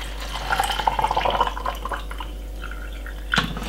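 Water poured into a blender of green juice ingredients, a brief close splashing trickle that fades, followed by a short knock near the end over a low steady hum.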